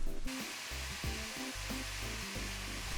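Ground beef browning in a pan for pizzawiches, giving a steady, close, continuous sizzle and crackle with a few low clunks and scrapes along the way, and no talking.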